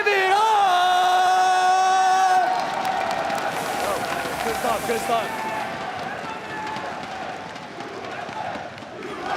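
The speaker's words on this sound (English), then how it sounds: "we hear a huge chant in the crowd" A large esports crowd at the Clash Royale League World Finals roars and chants in a steady, swelling wash of noise, with a brief spoken remark near the start.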